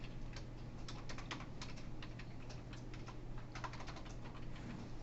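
Keystrokes on a computer keyboard during a recorded lecture, quick irregular bursts of clicks at close range over a steady low hum, with no talking.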